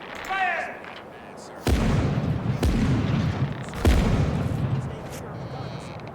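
Left-side cannons of a sailing ship firing a broadside in Caribbean Legend, three heavy booms spaced about a second apart, each followed by a rumbling roar, with a voice briefly heard at the start.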